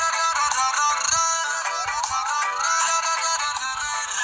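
A polyphonic ringtone melody plays loudly from a new itel keypad mobile phone, a bright, steady tune of repeated electronic notes filling the whole stretch with no talking over it.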